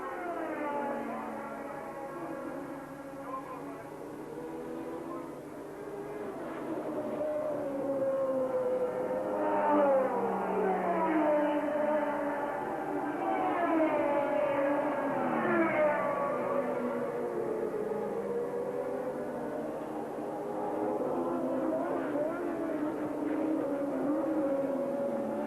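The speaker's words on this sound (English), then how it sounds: "the white and green Saudia Williams car with its Ford Cosworth V8 engine" Formula One cars race in the 1982 South African Grand Prix, including a white and green Saudia Williams with a Ford Cosworth V8 and a scarlet Ferrari, engines wailing and rising in pitch as they pass, moderately distant and continuous.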